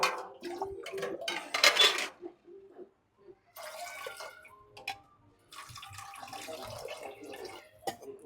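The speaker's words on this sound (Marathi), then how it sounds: "आपण आता यामध्ये पाणी टाकूया." Water poured into a pot of rice, splashing and trickling in short bursts with clinks of a metal pot and utensils, fairly quiet and close, no talking.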